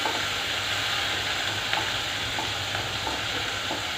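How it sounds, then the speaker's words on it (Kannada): Chillies frying in a small amount of hot oil, giving a continuous loud sizzle and crackle close up with occasional stirring scrapes. "ಇದು ಎಣ್ಣೆ ಕಾದಿದೆ. ಇವಾಗ ಈ ಚಿಲ್ಲಿಯನ್ನು ಹಾಕ್ಬಿಡ್ತೀನಿ."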